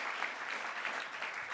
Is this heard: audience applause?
yes